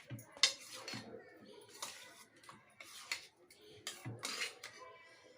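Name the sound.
stirring leafy greens curry in a pot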